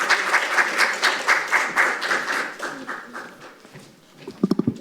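Audience clapping to welcome a speaker at a Korean National Assembly science and broadcasting committee forum, steady dense applause that thins and fades, then a few sharp, louder claps near the end.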